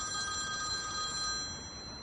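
A telephone bell rings steadily in an indoor drama scene, its bright electronic tones holding on without pause and no one talking over it.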